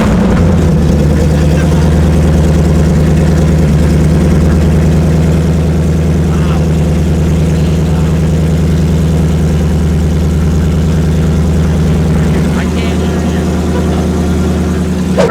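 An Audi R8 V10 Plus idles loudly and steadily up close, its deep rumbling exhaust running throughout with a slight shift in tone near the end.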